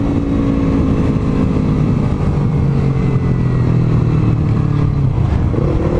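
A motorcycle carrying a couple on a holiday road trip drones steadily up close, its engine pitch easing slowly downward under constant wind rush, with no talking.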